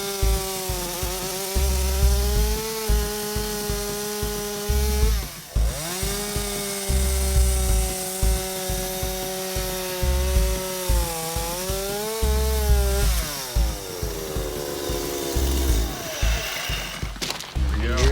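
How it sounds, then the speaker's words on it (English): An electric chainsaw cuts into wood while carving out sections of a wooden food mill, its motor whine surging and dipping in repeated passes, loud and close, with a few brief pauses between cuts. "Ready to guide and go in with the electric chainsaw or the chisel, pop out different squares of it."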